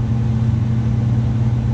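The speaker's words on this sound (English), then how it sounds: "Our blower is supposed to start." A Lennox furnace blower runs with a steady, loud low hum and an even airy rush, unchanging throughout.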